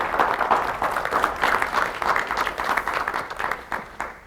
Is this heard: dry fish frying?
no